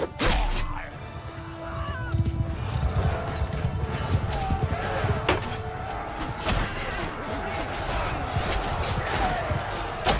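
Horse hooves clip-clop rapidly in Mount and Blade II Bannerlord as a horse gallops, a dense driving rhythm under battle clangs and scattered impacts, with someone talking over it.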